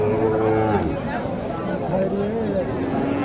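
Cattle low repeatedly nearby at a cattle market in Naogaon, amid a murmur of people talking in the background.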